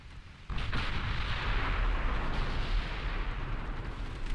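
Warship casemate guns fire in the naval game Ultimate Admiral Dreadnoughts, starting abruptly and continuing as a dense, rumbling roar of overlapping booms.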